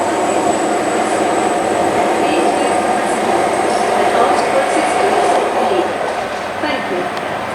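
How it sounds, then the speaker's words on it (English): A Class 166 diesel unit departs Reading station on the Great Western Main Line, a steady, loud engine drone and rolling rumble that eases slightly toward the end, with faint high squeals. "Now departing is a class 166 bound for London Paddington."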